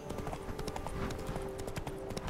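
Horse galloping in The Witcher 3 video game, a steady rapid clip-clop of hooves running continuously at close range over low ambient game sound.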